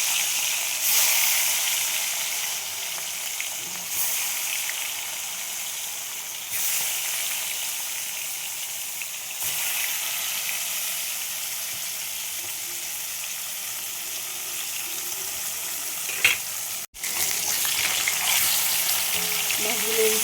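Marinated shol fish fries in hot oil in a pan, a loud, continuous crackling sizzle that holds steady with slight swells, broken once by a brief gap before resuming.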